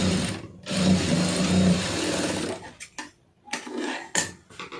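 A sewing machine runs steadily while stitching a V-shaped hook band on a blouse neckline, a close continuous mechanical whir that stops briefly, then resumes in short bursts.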